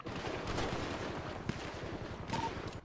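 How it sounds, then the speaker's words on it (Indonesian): Rapid bursts of gunfire fired into the sky in a GTA roleplay game, close and loud, running as a dense steady volley with no clear gaps. "Tembak ke langit aja, Cok."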